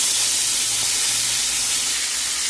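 Oil sizzles and spits steadily in a pan where chicken is frying with dry chilies and ginger-garlic paste, a close, continuous crackling hiss with no talk.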